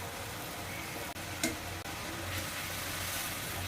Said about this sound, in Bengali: এখন মশলাটাকে খুব ভালো করে আমি কষাই নেব।